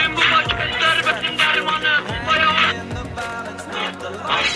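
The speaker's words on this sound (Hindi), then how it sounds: "मैं आप लोगों को गाना प्ले करके सुनाता हूँ।" A trending Turkish-language song plays through a phone ringtone app, loud and continuous with busy music filling the clip, no talk over it.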